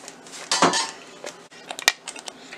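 A spoon scrapes and knocks against a cooking pan while stirring fine cashew paste over medium flame for restaurant-style butter chicken, with a few close, irregular clinks and scrapes and no talk.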